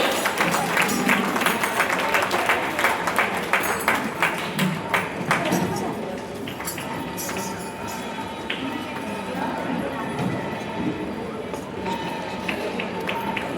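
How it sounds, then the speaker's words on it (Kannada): An audience at a seventh anniversary event bursts into loud, fast clapping that lasts several seconds, then thins into scattered claps and crowd murmur while a voice speaks. "ಜೋರಾದ ಚಪ್ಪಾಳೆ ಬರಬೇಕು."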